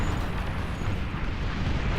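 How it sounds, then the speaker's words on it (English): Thor EMP missile explosions in the real-time strategy game Beyond All Reason, a continuous dense rumble of overlapping blasts and booms, loud and sustained without a break. "That's because of the multiple Thor EMP missiles."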